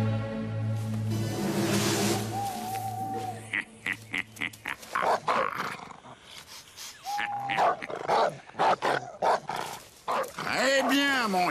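A dog barks and yelps in short bursts amid growly, whiny noises, with a voice-like squeal near the end and a low hum early on.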